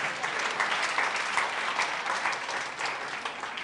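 A church congregation applauds steadily, with dense clapping from a moderately distant crowd that stays even for a few seconds.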